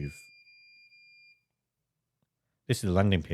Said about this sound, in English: With the NVR set up, it's now beeping at me.